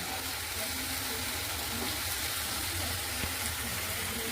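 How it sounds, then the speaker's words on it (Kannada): Basale (Malabar spinach) greens fry in a pan with a steady, close sizzling hiss that stays even throughout, with no talking over it. "ಈ ಸೊಪ್ಪು. ಫ್ರೈ ಆಗ್ತಾಯಿದೆ."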